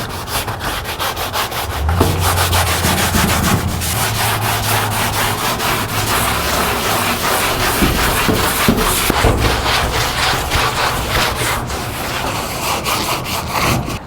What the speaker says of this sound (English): I'm going to go over it actually with a sander real quick.